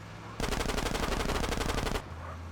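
A rapid burst of automatic gunfire in GTA San Andreas Definitive Edition, about a second and a half of evenly spaced shots, loud and close, with quiet game ambience before and after.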